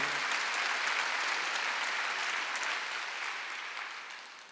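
Church congregation clapping together during a Sunday worship service, a dense, steady wash of applause that holds throughout and gradually fades toward the end, with no voices over it.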